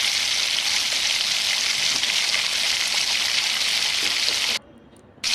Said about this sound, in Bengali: পেঁয়াজটা ভাজা হচ্ছে, হালকা করে একটুখানি ভেজে নিই কয়েক সেকেন্ড।